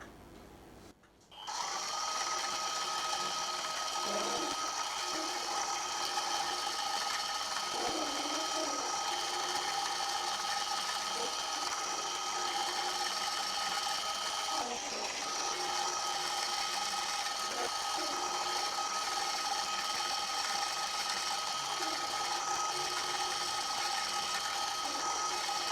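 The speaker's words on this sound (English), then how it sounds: "So I shall just go down until the cutter starts to cut" A Quorn Mk3 tool grinder runs steadily while its cutter machines a spindle, a continuous high whine and hum that starts abruptly and holds near and even, with faint scraping contacts and no talking.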